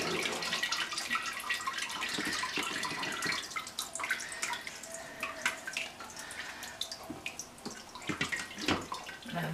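Rhubarb wine pulp is sieved, and liquid pours and splashes steadily through the strainer. It gives a continuous close watery trickle with scattered drips and small clatters.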